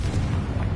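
A short, loud fiery explosion from the Confringo fire curse in Hogwarts Legacy, a deep rumbling burst with no talking over it.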